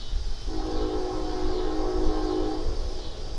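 A train passes with its horn sounding one long, sustained blare over a continuous low rumble of rolling wheels, moderately loud and somewhat distant, with no talk.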